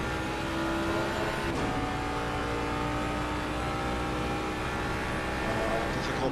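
A race car engine drones steadily under throttle on the Donington Park circuit in a GT sim racing game, a sustained loud tonal whine with a shift blip early on, under continuous commentary.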